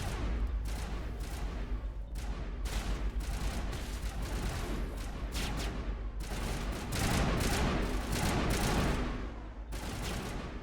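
Rapid bursts of gunfire in the video game Mass Effect, with sustained volleys and booming reports that come in repeated loud waves, broken by brief pauses.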